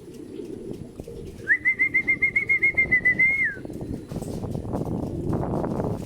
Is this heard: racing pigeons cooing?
yes